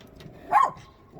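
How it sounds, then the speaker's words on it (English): A single short dog bark rings out at moderate distance against a quiet background, brief and sharp with no talk over it. "dogs, I don't know what they're barking at."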